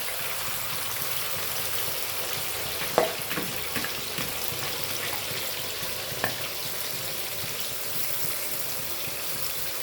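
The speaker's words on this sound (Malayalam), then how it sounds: "ഇനി നമ്മൾ എണ്ണയിലേക്ക് നമ്മുടെ പാവയ്ക്കയും ഈ പച്ചമുളകും ഉപ്പും കൂടെ മിക്സ് ചെയ്ത് നമ്മൾ ഇട്ട് കൊടുക്കുന്നു" Bitter gourd mixed with green chilli and salt frying in hot oil in a small pan, a steady soft sizzle with occasional faint pops and stirring clinks.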